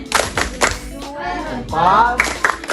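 Children in a micro-teaching class clap a rhythmic cheer, sharp hand claps in a quick patterned burst, broken by speech in the middle and resuming near the end.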